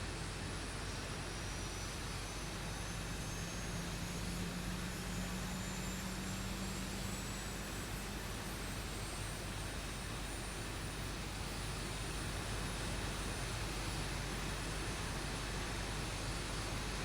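A jet engine in the X-Plane 12 flight simulator spools up from start, a steady dense roar with a faint rising whine, continuous and even at low level throughout.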